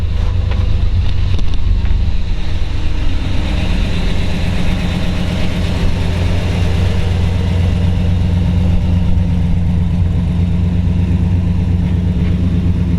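A 1955 Chevrolet 210 Delray resto-mod with a mild 350 V8 idles steadily up close, a smooth, mellow low rumble holding even throughout with no voices.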